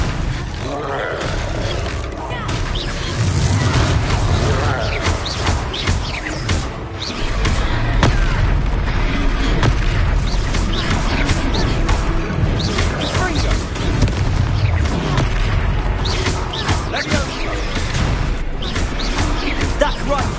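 Repeated Confringo fire-spell blasts in the video game Hogwarts Legacy, booming and crashing amid a loud, continuous battle mix with creature roars, with voices talking over the action throughout.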